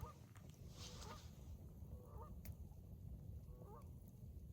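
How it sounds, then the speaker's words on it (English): Two Canada geese honk faintly and far off across the water from an island at night in late March, a few separate calls over quiet low background rumble. "I still hear those Canada goose over there."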